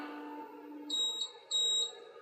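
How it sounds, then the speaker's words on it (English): Two high-pitched electronic beeps from an Anycubic Photon resin 3D printer signaling a finished print, each lasting about a third of a second, sounding over a quiet, low mechanical hum. "When it beeps a couple times, that's how you know it's done."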